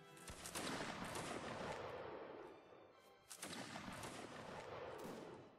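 A line of soldiers fires musket volleys in a video game line battle: two long, crackling rolls of many overlapping shots, a few seconds apart, heard at a distance and fairly faint.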